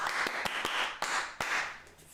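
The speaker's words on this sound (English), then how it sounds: "Now say it in your head and clap it on your hands." A small group claps hands in a rhythmic pattern, several sharp, close claps spaced unevenly across a couple of seconds over a hissy, washed-out room background.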